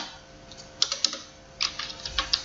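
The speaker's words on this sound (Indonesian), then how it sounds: "Di sini kita berikan enter sedikit, Ctrl enter." Computer keyboard keys pressed in short bursts while a document is edited: a few separate taps, then a quicker cluster of clicks, close and fairly quiet, with no talking.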